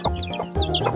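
A hen clucks softly and repeatedly nearby, a string of short, throaty calls with no talking.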